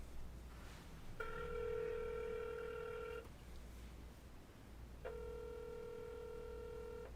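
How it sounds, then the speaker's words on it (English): Phone call ringback: two long electronic ringing tones with a pause between, steady and fairly close, without talking. "Call Eric DePasquale."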